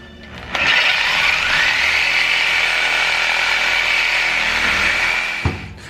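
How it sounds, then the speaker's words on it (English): A power saw cuts through exhaust tubing for a C4 Corvette cat delete, one loud continuous high-pitched grinding cut lasting about five seconds, close up and with no talk. "So we're gonna go ahead and mark this stuff and make some cuts."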